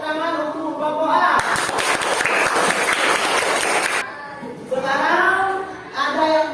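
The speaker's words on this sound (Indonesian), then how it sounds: "Baik, kita beri tepuk tangan untuk kelompok A." Students in a classroom clap for a presenting group, a burst of loud hand-clapping in the middle that stops abruptly, with people talking before and after it.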